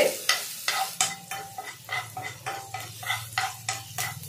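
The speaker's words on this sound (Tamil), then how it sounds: "இந்த பட்டர்லயே இந்த பூண்டு கொஞ்சம் வதக்கியாச்சு." Chopped garlic frying in butter for a white pasta, a steady low sizzle under rhythmic spoon scrapes against the pan roughly every half second, close and clear.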